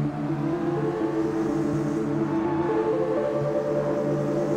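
A Mitsubishi car driven in the video game Sleeping Dogs, a steady engine drone with layered harmonic tones running continuously at an even level, rising slightly in pitch partway through, with no talk over it.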